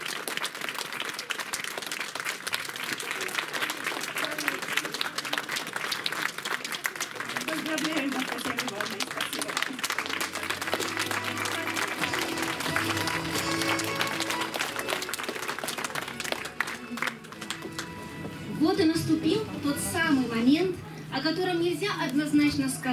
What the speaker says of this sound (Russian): выйти к нам под всеобщие аплодисменты